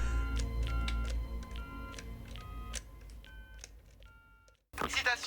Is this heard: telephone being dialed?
yes